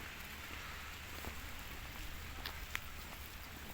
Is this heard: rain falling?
yes